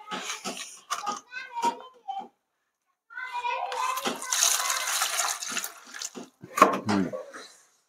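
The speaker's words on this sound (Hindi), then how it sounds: "तो धो लेते हैं हम पानी से।" Tap water splashes in bursts while food is washed by hand before making pakoras, with gushing runs separated by short pauses and voices speaking between them.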